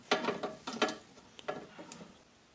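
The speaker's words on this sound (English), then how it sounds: "So we get the clamp nice and tight." A clamp is tightened on a metal rod with a few quiet, quick ratcheting clicks in short bursts, followed by fainter scattered ticks near the end.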